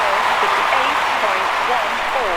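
A large Olympic stadium crowd at the London 2012 Games applauds and cheers in a dense, steady roar of clapping and voices that holds loud and even for the whole stretch.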